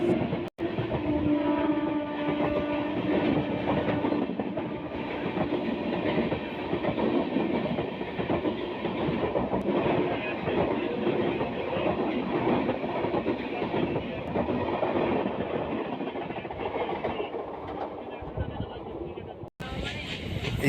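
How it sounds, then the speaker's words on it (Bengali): Train ride on a suburban line from Kolkata to Bardhaman, with a steady loud rumble and clatter of the rail car continuing throughout, a brief horn-like tone near the start and voices talking faintly in the background. "আমরা এখন ট্রেনে উঠব"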